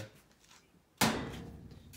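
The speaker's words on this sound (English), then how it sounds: "Open the door." The door of a 1996 Whirlpool direct-drive washing machine is pulled open with a sudden sharp clunk halfway through, followed by a short fading rattle in a quiet room.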